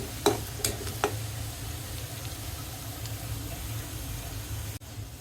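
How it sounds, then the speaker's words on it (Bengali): Onions fry in oil with a soft continuous sizzle. A few sharp utensil clicks and scrapes come early, then the sizzle carries on quietly and close-up with no speech. "এই যে পেঁয়াজ এইভাবে ভেজে নিচ্ছি আমি"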